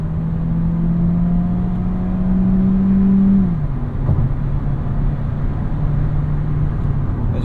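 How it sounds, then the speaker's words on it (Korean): A Hyundai Avante CN7 hybrid accelerates at highway speed. Steady engine and motor hum rises in pitch, then drops briefly as it shifts, over constant road and wind noise heard from inside the cabin. "고속에서 한번 조금 가속을 테스트 해보면"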